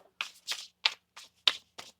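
Tarot cards being shuffled by hand, about seven quick papery riffling bursts in an irregular rhythm, close and crisp with brief gaps between them.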